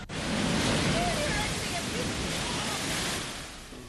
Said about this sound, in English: Tourists enjoying the beaches were stunned by the massive waves.